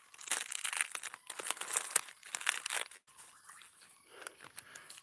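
Dry, papery bark on a paper-bark tree crinkles and crackles under a hand at close range, busy for about three seconds, then softer scattered rustles.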